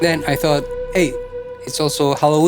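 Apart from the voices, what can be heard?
No distinct noise like a dog, phone or traffic.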